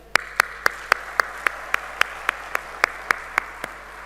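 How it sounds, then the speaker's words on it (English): Summit audience clapping for a team in a hall, a slow, evenly spaced run of about fourteen sharp single claps, crisp and fairly close, with no voices. "A big round of applause for this entire team"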